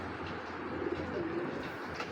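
Soft Giribaz pigeon cooing, a low repeated coo against steady background noise, moderately distant and fairly quiet.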